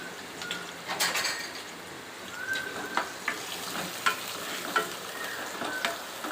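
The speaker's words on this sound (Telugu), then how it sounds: "తర్వాత ఆయిల్ హీట్ అయిన తర్వాత ఆనియన్స్ వేసేద్దాం." Onions frying in hot oil in a pan, a close, airy sizzle broken by several sharp scraping and clinking stirring strokes.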